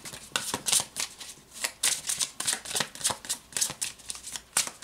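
Tarot cards being shuffled by hand in quick, papery riffling bursts, steady and close, with no talking over them.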